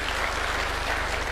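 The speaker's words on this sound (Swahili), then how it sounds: "Tuwapigie makofi jameni." Applause at a UDA National Governing Council meeting: a dense, continuous crowd clapping at steady loudness, with faint voices underneath.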